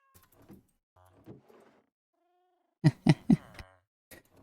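A cat meows in a video game, with a few short, quiet calls followed by a louder burst of three sharp meows and a final faint one, spaced by silence.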